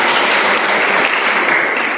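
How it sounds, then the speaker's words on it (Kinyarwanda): Congregation clapping in sustained, dense applause throughout at a Pentecost church gathering, loud and continuous with no talk. "Mana tuyikomera amashyi"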